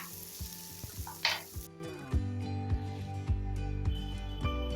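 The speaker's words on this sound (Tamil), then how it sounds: "நல்லா வதக்கிக்கலாம்." Onion, tomato and chopped green chili sizzling and frying in hot oil for dal fry, with steady crackle and a few sharp stirring clinks of a spoon against the pan.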